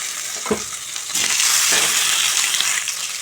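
Boiled broad beans and onions stir-fry in a pan: a couple of scraping stirs land early, then a bright, steady sizzle swells louder and holds.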